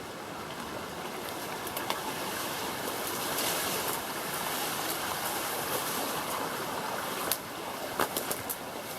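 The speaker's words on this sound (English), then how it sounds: "Pretty stream." A creek flowing beside a rocky overhang on a bush walk toward Dundundra Falls, a steady broadband rush of running water heard close and continuous, with a few small splashes and clicks on top.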